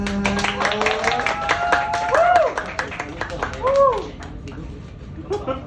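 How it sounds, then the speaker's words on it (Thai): Clapping at a surprise birthday cake celebration, heard as a scatter of close hand claps that fade out over the clip while voices talk and call out over them. "ปรบมือเลยครับ"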